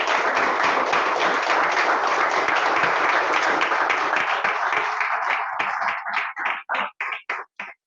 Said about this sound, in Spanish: Bueno, le brindamos un aplauso.